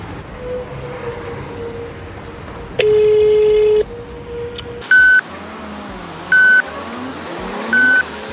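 A phone call to a construction company's number: a low steady hum and a long tone, then three repeated electronic ringback beeps at even intervals, loud and close against a faint background.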